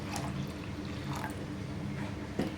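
Water being poured into simmering milk with sago pearls for Tamil-style javvarisi payasam, a soft continuous liquid trickle and splash in a pan, steady and close throughout.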